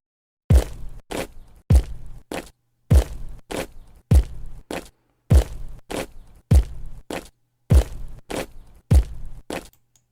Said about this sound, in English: marching along to a drum struck every time the soldier's left boot hits the ground